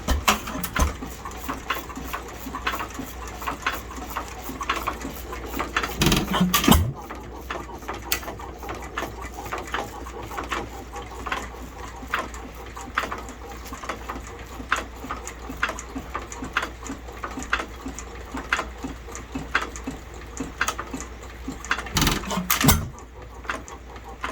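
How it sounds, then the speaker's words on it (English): An IHC Titan/Famous 2 1/2 hp hit-and-miss engine runs slowly with steady rhythmic clicks and thumps, broken by two louder irregular bursts where it misfires, heard close and alone. "That one had a misfire because I was playing with the speed controller."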